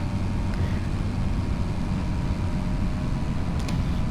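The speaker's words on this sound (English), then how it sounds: "let's run the tractor over" A tractor runs during a Missouri corn harvest, giving a continuous low engine rumble that is steady and fairly loud, with no other distinct sounds over it.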